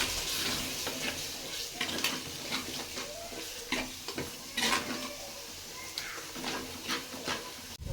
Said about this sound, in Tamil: சேர்த்து கலந்து விட்டுக்கலாம்